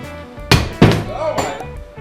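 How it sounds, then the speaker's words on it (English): Heavy hammer blows strike a part to knock it loose while repairing an Air Conception Tornado 280 aircraft in a workshop, two sharp loud impacts followed by a third, with a person's voice in the background. "I'm gonna get a bigger hammer. Bigger hammers, always the answer."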